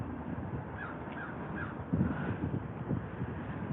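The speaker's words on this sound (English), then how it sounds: "Those are the type of birds" Crows caw outdoors at a roadside accident site, several hoarse calls in a loose series, mid-distance, over wind rumble and handling noise, with no talking.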